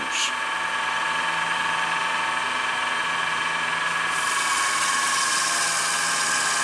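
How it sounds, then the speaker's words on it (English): Steel wool polishes turned wood on a running lathe, giving a continuous close hiss and whir over a steady motor hum. The hiss brightens toward the end. "now I'm finishing polishing up with steel wool and wood shavings"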